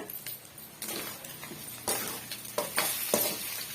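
Egg with salt and pepper is mixed in a pan, heard as a close, uneven run of scraping and stirring strokes over a light sizzle, with a few soft metallic clinks.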